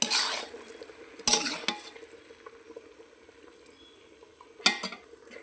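Vegetables for khichuri cooking dry in a covered pot: a faint low simmer and sizzle underneath, broken by three sharp clanks of a lid or spoon against metal, near and fairly loud.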